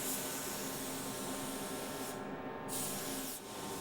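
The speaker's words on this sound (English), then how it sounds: "you can't angle the gun the right way to get paint on the backside of that louver" Spray gun spraying paint onto a car louver in a custom auto paint shop: a steady, close, loud hissing spray that runs almost without break, with two short pauses near the end.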